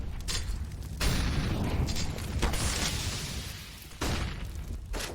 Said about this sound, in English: Early nades down on Banana.